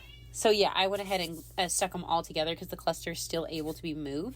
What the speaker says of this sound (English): I apologize for my cat. He's mad and I won't come to bed, so he's going to sit there and yell.